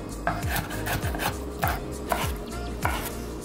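A knife taps rhythmically on a cutting board while shredding black fungus, roughly every 0.6 seconds in a steady series of sharp, close chops over a continuous low background hum.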